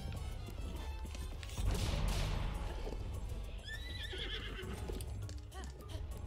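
Horse in the video game Breath of the Wild neighing loudly and whinnying, with galloping clip-clop hooves and game effects throughout, close and alone without speech.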